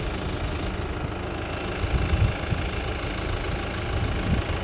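An Arbos 30 tractor's diesel engine idles nearby in a low, steady chugging rumble with a slightly knocking beat, running alone without talk.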